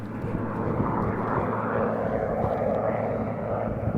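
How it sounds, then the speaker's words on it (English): A helicopter flies overhead near the Larch Creek wildfire, producing a loud, steady engine drone that holds throughout with no pauses. "Here's a helicopter flying up overhead."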